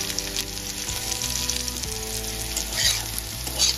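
Vegetables frying in a pan for homemade pasta, a constant close hiss of sizzling oil laid under a low steady musical backing, with a couple of brighter sizzle swells near the end.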